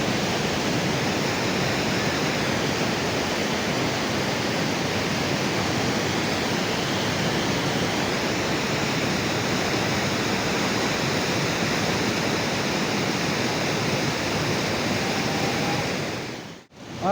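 A waterfall pouring continuously, a loud, dense, steady rush of water that fills the whole stretch, close by, with no voices over it.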